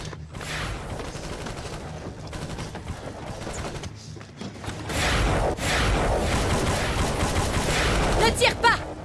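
Gunfire crackles through a film firefight, bursts of shots and machine-gun fire mixed with shouted voices, building louder and denser in the second half with sharp close cracks near the end.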